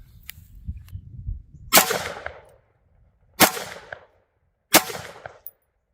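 Three loud, sharp gunshots from a handgun fitted with a Gowutar red dot sight, spaced about a second and a half apart, each with a short ringing decay outdoors, preceded by faint handling sounds.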